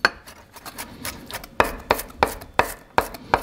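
A knife chops garlic cloves rapidly on a cutting board, sharp close knocks, first light and quick, then six louder evenly spaced chops.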